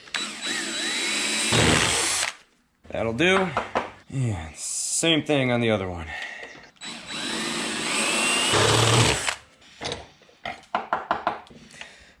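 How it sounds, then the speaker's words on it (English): A power drill whines in bursts, rising and falling in pitch as it bites through a metal bracket, with clanks and someone speaking briefly between runs. "I'm going to drill a hole right in the center"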